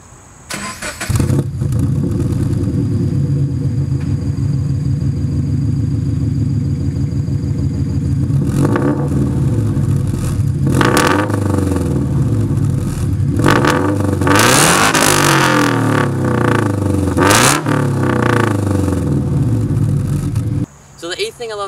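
A Subaru BRZ engine idles with a steady exhaust drone, then revs repeatedly in sharp rising and falling blips, loud and close, before dropping back to idle.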